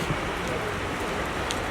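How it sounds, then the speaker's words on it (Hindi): Heavy rain pours down steadily in a dense, hissing wash that holds constant for the whole short stretch, with a faint hint of a voice behind it. "इतनी बारिश हो रही है"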